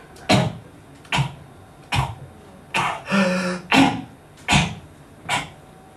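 A voice imitates a child's whooping cough: a run of eight sharp, harsh coughs at a steady rhythm, with a drawn-out, wheezy inhaling sound partway through, loud and close with no other sound around it.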